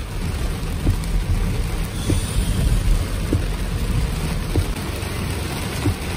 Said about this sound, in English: this rain's getting really bad, folks